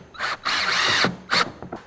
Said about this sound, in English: And I'm gonna screw it in place with these screws